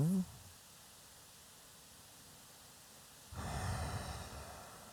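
Slow, steady breathing during a pranayama meditation, a soft airy exhale swelling up near the end after a long quiet stretch, close and gentle with no talking over it.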